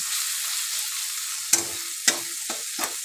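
Fish masala frying in a pan, a steady hissing sizzle broken by a few sharp stirring scrapes and clinks toward the end, close and fairly loud with no talking.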